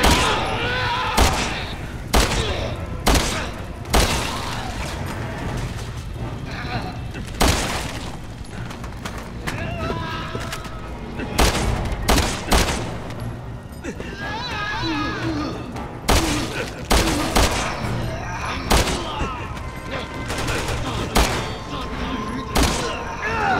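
Gunfire in the shooter game Resident Evil 6: repeated loud bursts and single shots in irregular volleys, mixed with impacts and thuds, while voices talk throughout.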